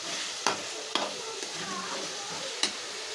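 Spoon stirring prawn and drumstick curry in a pan, with a soft sizzle underneath and several sharp scrapes and clinks against the pan at irregular intervals.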